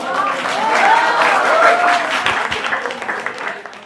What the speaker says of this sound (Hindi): बहुत जोरदार तालियों से स्वागत कीजिए।